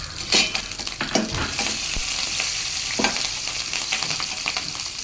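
Green and dried red chilies with curry leaves and onion sizzle steadily in a pan for a bitter gourd dish, a dense continuous crackle with a few scraping stirs of a spoon, close and fairly loud, no talking.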